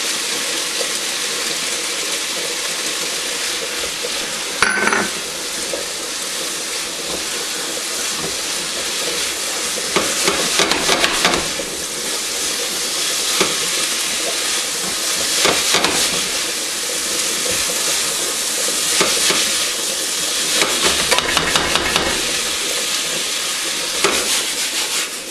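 Scallions and parsley stir-frying in a pan make a continuous hissing sizzle with bursts of louder crackle and clatter as the pan is worked, no talking.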